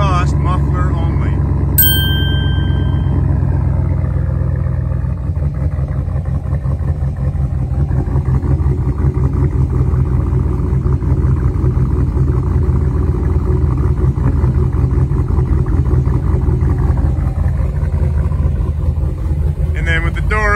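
A 2012 Ram Hemi V8 pickup on its stock exhaust with only the muffler rumbles loud and close for about twenty seconds, a steady deep idle that swells slightly in places, with a brief chime early on.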